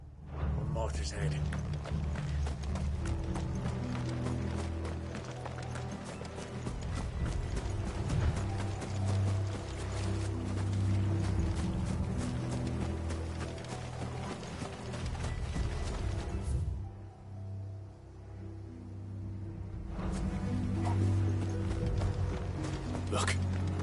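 Horse hooves clip-clop steadily through a Final Fantasy XVI game scene, a continuous rhythmic trot under music and characters talking, with a short lull near the end before the hoofbeats resume.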